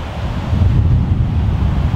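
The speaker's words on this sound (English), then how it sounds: "This wind is powerful" Strong wind on a golf course roars and buffets the microphone in a loud, continuous low rumble, with no other sounds standing out.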